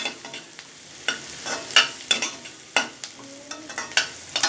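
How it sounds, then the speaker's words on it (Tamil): Long strips of sliced capsicum are sautéed for chicken manchurian, a soft sizzle under repeated close scraping strokes of a spatula in the pan, coming at an irregular rhythm. "கொஞ்சமா கொடமிளகாயை நல்ல நீள நீளமா கட் பண்ணிருக்கேன் அதை சேர்த்துக்கிறேன்."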